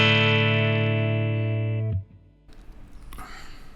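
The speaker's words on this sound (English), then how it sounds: "I'm on the Deluxe Reverb amp, but I've left it at 5, so it is distorting quite a bit" A heavily distorted electric guitar chord from a 2021 Fender Vintera Jazzmaster through a Fender Deluxe Reverb tube amp set at 5 rings out loud and sustained, then cuts off abruptly, followed by quieter string noise and scraping.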